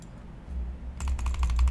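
A Model O gaming mouse is clicked rapidly in a quick run of sharp, close clicks over a low background hum, starting partway through after a quieter stretch.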